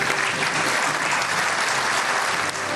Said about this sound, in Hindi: हॉल तालियों से गूंज उठा